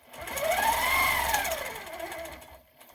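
A powerquilter 1650 quilting machine stitching along a ruler, a fast steady mechanical whir close by that rises in pitch and then falls away as the run ends, with no talking.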